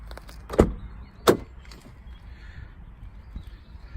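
A car with full black leather interior has its door opened: two sharp clunks about a second apart, close by, then quiet rustling.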